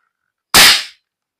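A wooden bolt-action toy gun fires once, a single sharp loud crack that decays quickly, with silence before and after.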